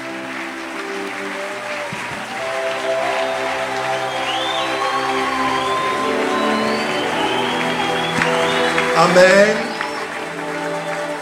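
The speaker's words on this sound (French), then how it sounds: "Déposez vos Bibles et acclamez très fort pour le Seigneur" A church congregation applauds and cheers for the Lord in a sustained wash of clapping, blended with tonal music and a voice speaking over it.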